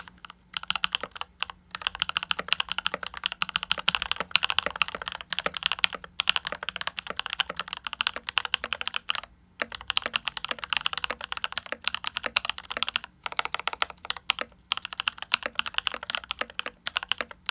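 Steady, fast clacking of a Keychron K8 Pro wireless mechanical keyboard being typed on, close and moderately loud, with brief pauses between bursts and no voices.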